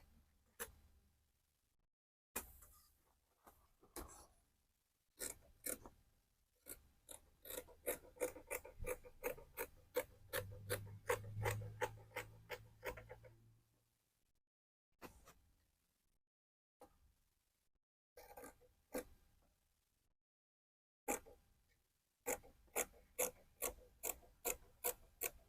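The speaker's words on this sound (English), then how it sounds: "I'll remove the inner piece so that I can cut the front armhole as well as the front neck" Scissors snip through dress fabric while cutting out the front armhole and neck, quiet close-up crunches coming in short bursts of rapid repeated cuts, separated by silent pauses.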